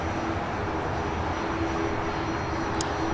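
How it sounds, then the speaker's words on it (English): Beechcraft 400 XP business jet arriving at LAX, a steady distant engine roar with a faint tonal whine, continuous and even across the whole stretch. "Talker Beechcraft 400 XPs coming in from Salt Lake City"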